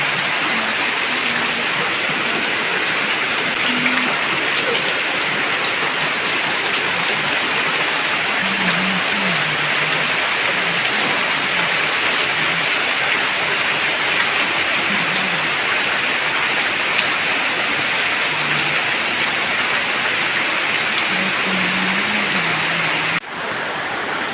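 Heavy rain pours down steadily at a botanical garden, making a dense, continuous hiss that never lets up, with faint low murmurs now and then beneath the downpour.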